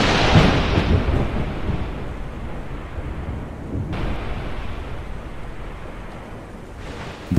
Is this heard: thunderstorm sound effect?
yes